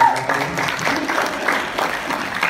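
Audience applause after a motivational speaker's joke at a talk, moderately loud and steady for a couple of seconds, with a voice talking over it.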